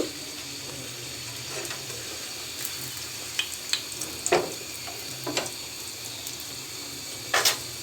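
Mughlai paratha frying in a pan gives a low, steady sizzle, broken by a few sharp crackles and pops, with no talking.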